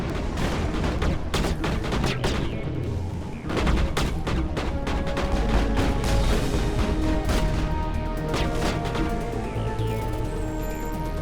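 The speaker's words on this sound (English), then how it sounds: "In the future, run away from the sound of gunfire." Sustained gunfire from the video game Mass Effect, with dense volleys of rapid shots and sharp bursts layered over a continuous loud battle din and music-like tones for the whole stretch.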